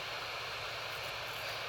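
Airliner sitting during pushback in the mobile game Real Flight Simulator, its engines giving a steady, dense whooshing hum that holds constant and fairly quiet throughout, with no talking.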